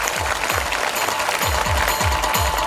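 An audience at a school annual function claps steadily, a dense, continuous patter of applause with a rhythmic low thumping running beneath it.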